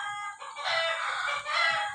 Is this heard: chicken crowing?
yes